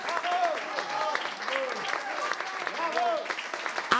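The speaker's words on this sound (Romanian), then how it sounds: "Aplauze, vă rog!" Audience applause on a Romanian television variety show after a dance number: sustained crowd clapping that runs throughout while a voice speaks over it.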